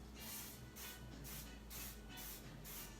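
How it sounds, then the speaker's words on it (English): Cooking spray misted lightly over no-bake fat bombs in a home kitchen: several short, soft hissing spurts in a steady rhythm, faint and close, with no talking. "And I always like to give a little light spray on these."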